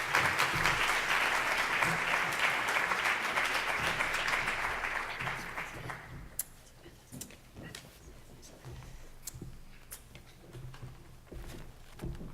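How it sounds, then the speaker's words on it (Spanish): A seated audience at a sustainable fashion conference talk applauds for the speakers, a dense, steady wash of clapping for about six seconds that then fades into sparse claps and room noise. "un aplauso para ellas, por favor"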